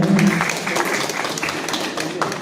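An audience at a clean stand-up comedy family show in Burari, Delhi applauds to honour a guest, dense steady clapping at moderate loudness that thins slightly toward the end.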